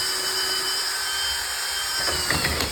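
A power drill bores through hard wood while repairing a four-wheel moving dolly, whining steadily up close with a continuous high motor tone and a few scraping catches near the end.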